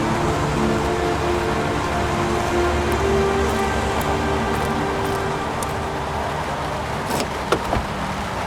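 Rain falls on a car in a heavy downpour, making a dense, steady hiss and patter heard from inside with no voices, and a few sharp ticks and knocks come near the end.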